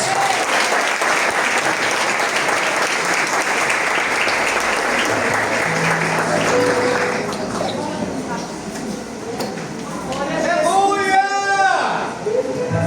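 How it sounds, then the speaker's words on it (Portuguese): A Pentecostal church congregation claps continuously in a dense, loud wave of applause at a 28th anniversary service. The applause gradually thins before a voice speaks near the end. "Palmas ao Senhor Jesus."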